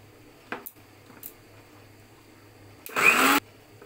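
Spices whirring in an electric grinder, a short loud burst of about half a second after a couple of faint clicks and taps, close and otherwise quiet.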